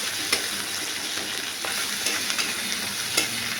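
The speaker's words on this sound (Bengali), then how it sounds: "এবারে আদাটা দিয়ে নাড়ছি।" Ginger is stirred in a frying pan of spicy soybean and potato curry, a steady sizzle with scattered spoon scrapes and clicks, close and fairly quiet with no voices.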